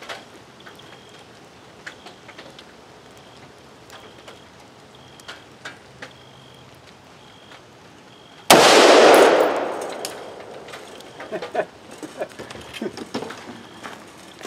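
A rifle fires a single .223 cast lead bullet at a target, one loud close crack with a trailing roar, amid quiet outdoor ticks and rustles before and after.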